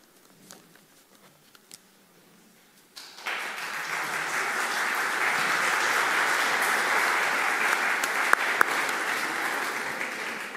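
After a few quiet seconds, an audience breaks into sustained applause that stays steady and full until the end.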